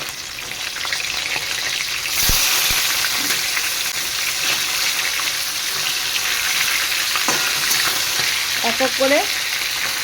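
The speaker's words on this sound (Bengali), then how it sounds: "বাকি মাছগুলোকেও ভেজে নেব।" Pieces of silver carp frying in hot oil for a Bengali fish curry, a loud, dense, close sizzle that swells as more pieces go in, with a few utensil taps and brief speech near the end.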